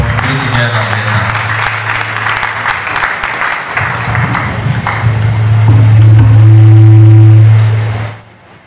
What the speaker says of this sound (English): Let's put our hands together for him as he comes. A round of applause, people of God.